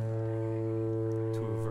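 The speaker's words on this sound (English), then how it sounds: "two foghorns on the bottom," Twin foghorns mounted on the underside of the Void Co. Scarab Buggy Mk3 Tadpole variant in a video game, blaring as a loud, steady, low droning blast that holds throughout.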